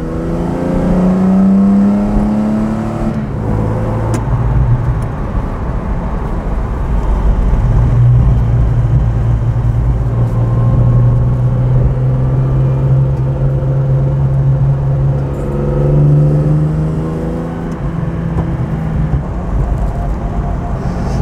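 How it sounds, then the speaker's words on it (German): A restored 1966 Jaguar E-Type 3.8 coupé with a six-cylinder engine accelerates loudly through several gears, its rising revs dropping at each shift in a close, sustained roar with no speech. "Man spürt ganz einfach die Kraft von dieser 6-Zylinder-Maschine."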